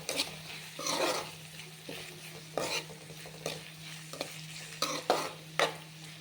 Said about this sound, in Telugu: కొద్దిగా కరివేపాకు కూడా యాడ్ చేసుకున్నాను గోల్డెన్ కలర్ వచ్చేంత వరకు ఫ్రై చేసుకోవాలి